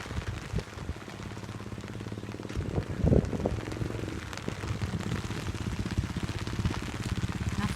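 Rain falls on flooded rice fields beside an overflowing creek, a constant broad wash of splashing water with a brief louder swell partway through and no clear talking.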